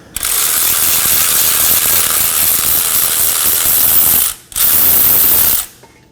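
A ratchet clicks rapidly and loudly at close range while removing the last brake caliper bracket bolt on a Nissan Maxima, in one long run, a brief pause, then a shorter second run.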